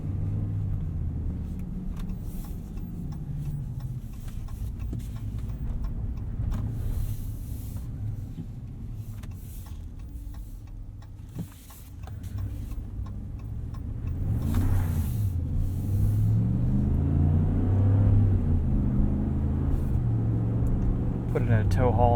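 A 2019 RAM 1500 Rebel pickup in two-wheel drive cruises along a street, its steady engine rumble and road noise building as it accelerates, with someone talking over it throughout.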